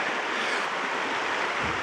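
A Vancouver Island river at a campsite rushes steadily in a broad, continuous wash of flowing water, close and even throughout with no voices.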